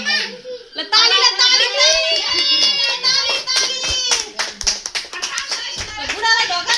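Hands clapping at a family wedding celebration at home, a few sharp claps scattered under lively chatter and children's voices, close and loud.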